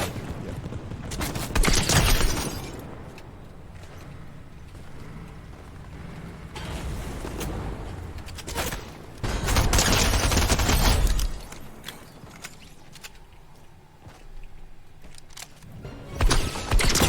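Bursts of gunfire in the Vampire Survivors video game, loud volleys near 2, 9–11 and 16 seconds over a steady mechanical game background, with no talk.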